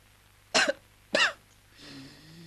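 Two sharp, close coughs from a man in a Turkish comedy film, evenly spaced about half a second apart, followed by a soft low groan.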